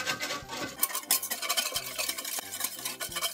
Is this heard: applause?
no